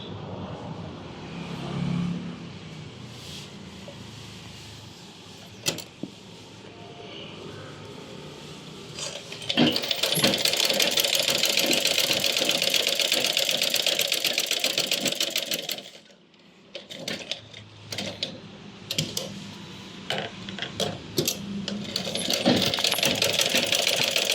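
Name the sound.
sewing machine stitching a 14-inch cloth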